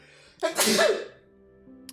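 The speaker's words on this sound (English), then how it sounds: "I'm also sneezing. A lot." One sharp sneeze erupts out of near silence, a quick intake followed by a loud explosive burst that fades within half a second, with quiet background tones around it.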